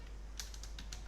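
A short run of computer keyboard typing, a few quick soft key clicks in an uneven rhythm over faint room hum.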